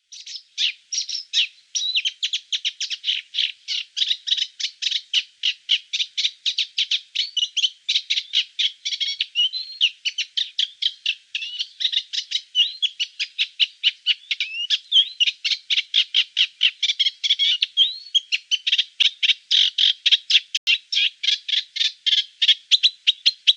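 A warbler sings near a reed bed in Britain in summer, a long, rapid chuntering run of dry, rhythmic chirps and churrs, close and clear, continuing without pause.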